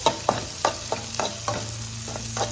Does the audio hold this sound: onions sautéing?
yes